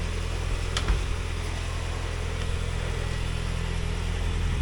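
A 57,000-mile 1999 Mazda Miata engine running at a steady idle, a constant low hum with a faint tick, close and unchanging throughout.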